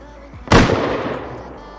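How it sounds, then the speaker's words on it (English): M249 and M39 gunfire in the survival game Rust, heard as one sharp, loud report with a long echoing decay, standing alone without talk. "M249 and M39 are shooting."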